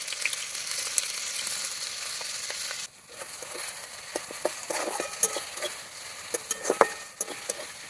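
Chopped onions hit hot oil in a pan while cooking a bhetki fish dish, giving a loud, steady sizzle with crackling pops; it dips briefly at one point, then resumes, with no talking.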